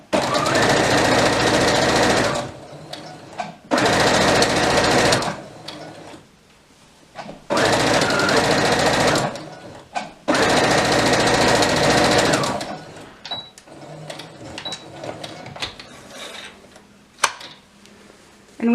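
Stitching a folded hem on a toddler's elastic-waist dress, a sewing machine runs in four loud, close bursts of rapid chatter separated by short pauses, followed by softer rustling and handling of fabric.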